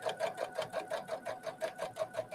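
A Brother sewing machine stitches at a steady medium speed, its needle thumping in an even, quick rhythm of about six beats per second, close and alone.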